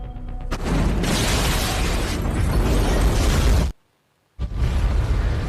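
A loud, sustained film explosion inside a room, with crackling debris, cutting abruptly to silence, then bursting back in at full force.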